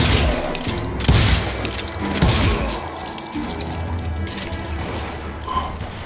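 Gunfire rings out in the Western shooter Call of Juarez Gunslinger, dense overlapping shots and cracks rolling in a loud fusillade that keeps up and slowly eases over a noisy backdrop.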